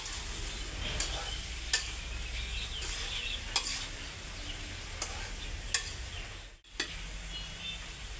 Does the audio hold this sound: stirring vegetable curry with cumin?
yes